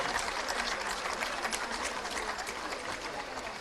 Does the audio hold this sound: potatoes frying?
no